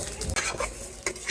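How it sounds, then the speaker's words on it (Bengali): Polao rice frying in ghee in a pan, stirred with a utensil: soft sizzling under repeated scraping strokes, close and fairly quiet, with no talk. "এই যে ঘি দিয়ে আমি পোলাও চালগুলো ভেজে নেবো"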